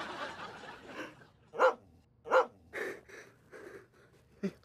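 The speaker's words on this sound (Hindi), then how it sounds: "तो बड़ा कुत्ता है यार ये।" A big dog gives several short, deep barks or woofs, spaced irregularly and fairly close, with breathy sounds between them in a quiet indoor setting.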